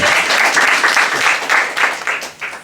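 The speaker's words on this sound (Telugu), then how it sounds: "నమ్మితే చప్పట్లు గట్టిగా ప్రభువుని మహిమపడతారు" A Sunday worship congregation in an Abu Dhabi church breaks into loud, dense applause that rolls steadily in waves, then thins slightly toward the end.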